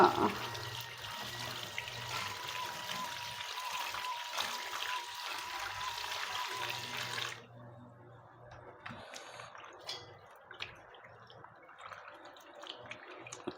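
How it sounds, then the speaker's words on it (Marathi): Bitter gourds being rinsed under a running kitchen tap: a steady, fairly loud rush of water for about seven seconds, then quieter splashing and dripping as the gourds are handled. "हे जे कारले आहेत त्याला मी स्वच्छ प्रकारे धुवून घेणार आहे"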